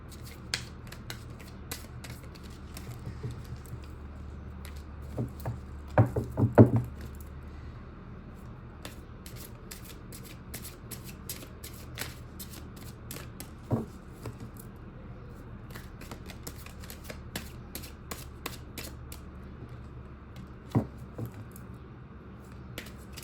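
Tarot cards being shuffled by hand, a long run of soft riffling, rubbing and occasional sharp flicks and taps, close and steady with no talk.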